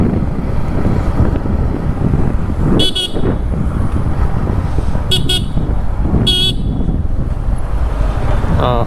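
Steady roar of road traffic at Nagercoil market with a few short car horn toots sounding over the rumble, loud and continuous throughout.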